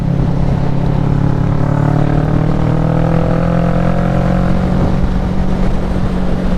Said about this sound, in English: I thought it was a 400, like a Ninja 400